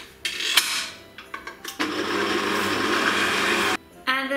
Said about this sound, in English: I have my stirring machine ready here, and what I'll do is just to add my butter into my flour